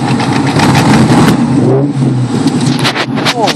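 A loud 600 hp 2004 Mustang Cobra on drag radials roars hard through first gear, a brief drop at the shift, then pulls again in second, close and aggressive with a voice briefly audible over the engine.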